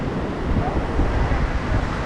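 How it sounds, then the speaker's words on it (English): Strong wind in Cannes, France, roars steadily against the microphone, a dense, constant rush with faint surf-like wash beneath it. "Windy today."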